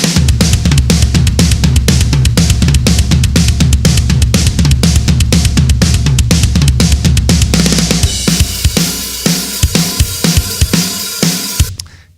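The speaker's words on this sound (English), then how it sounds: "the drums on that kind of sound like this" A rock drum kit pounds out a fast, driving beat with sharp regular hits, then shifts into looser crashes and fills before cutting off.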